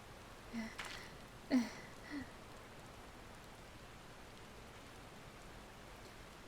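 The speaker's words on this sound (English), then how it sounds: "While this downpour is precisely the result we were hoping for, the novelty of standing outside in the rain does wear off rather quickly" Steady rain pours down in the video game Final Fantasy XIV, a soft, even hiss that stays faint throughout, with a few brief, slightly louder splashes early on.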